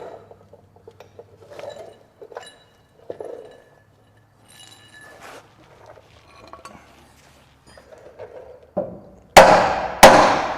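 Sharp metallic hammer strikes ring out on a steering part of a 1987 Dodge D-350 truck, a few scattered taps early and two loud, close blows near the end.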